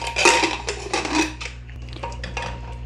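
A metal pressure cooker lid is opened after the pressure is released while cooking chana and potatoes, giving close clanks and scrapes of metal on metal in a few uneven bursts that fade to lighter taps.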